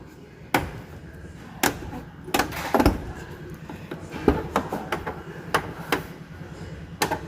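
A Fiat Uno's car door, with a worn door-limiter strap, gives irregular sharp knocks and clicks over a low rumbling background, spaced a second or so apart and moderately close.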